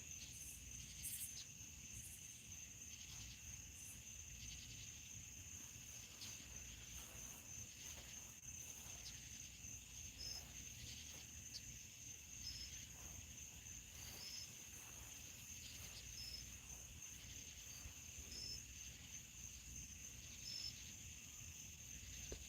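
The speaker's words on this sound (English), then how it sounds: "And the crickets sound so nice." Crickets chirp steadily and continuously, a dense high-pitched trill in a quiet outdoor night with no talking.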